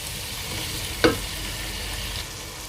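Spices fry in a karahi over a low flame before chicken goes in, a steady soft sizzle with a single brief scrape of stirring near the middle, close and without talk.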